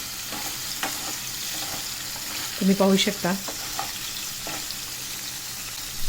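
Paneer pieces frying in hot oil in a kadhai over a low gas flame, a steady soft sizzle with brief louder stirring clatter midway and a short spoken phrase.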